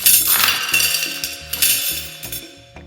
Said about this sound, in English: I really recorded money going down the drain.